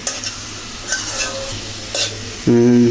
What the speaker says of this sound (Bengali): সবজিগুলো মশলার সাথে এভাবে সুন্দর করে নেড়ে ছেড়ে দিয়ে নিলাম